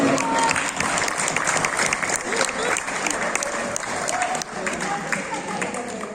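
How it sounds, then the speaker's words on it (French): Applause fills a municipal council meeting in Roquevaire, a room of people clapping steadily and warmly for several seconds, with faint voices mixed under the clapping. "Et on l'applaudit."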